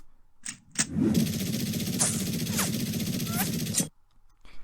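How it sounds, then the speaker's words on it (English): Rapid bursts of automatic gunfire rattle loudly for a few seconds, with sharp whizzing streaks over the fire before it cuts off abruptly. "you've got this machine gun sound effect and gunfire sound effect"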